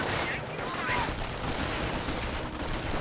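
Dense, continuous gunfire from a Company of Heroes battle between American infantry and German Volksgrenadiers, a steady rattling roar of many weapons firing at once with no pauses.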